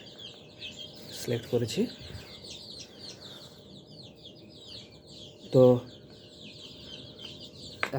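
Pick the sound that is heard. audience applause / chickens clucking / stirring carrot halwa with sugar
chickens clucking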